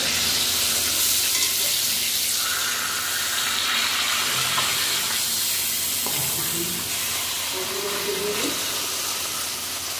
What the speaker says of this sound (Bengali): বাকি মাছগুলো এইভাবে ভেজে নেব